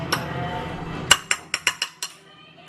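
A utensil mixes spicy sauce in a dish: a steady run of six or seven bright clinks against the dish, close and fairly loud, after a short stretch of low background noise.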